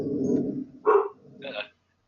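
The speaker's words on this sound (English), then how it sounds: "Those are my two dogs got activated by something." Two dogs bark indoors, heard near a speaker's microphone: a short sharp bark, then a second, softer bark after a mumble of voice.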